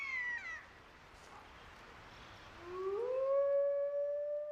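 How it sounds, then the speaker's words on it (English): A lone wolf howls in a Siberian wilderness, a rising tone that swells and holds steady as a clear, sustained call, following a fainter, higher wavering cry at the start. "Howling, the wolf call to arms, gathers the pack and warns other wolves to back off."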